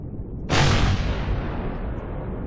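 In the space game Empyrion, a rocket fires and explodes in a sudden loud burst that fades into a long, rumbling decay.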